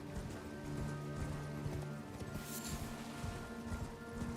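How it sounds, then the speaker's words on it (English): The spectral steed Torrent from the fantasy game Elden Ring gallops in a steady, rapid rhythm of hoofbeats at moderate volume, heard over a faint musical ambience. "for all intents and purposes, the Torrent is just magic fantasy horse."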